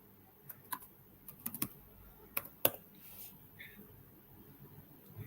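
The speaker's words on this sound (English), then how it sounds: "here I'm gonna use my name and type password here and type it again here" A computer keyboard tapped for a password, with scattered clicks in short clusters, close and quiet, followed by a brief faint tone and then near silence.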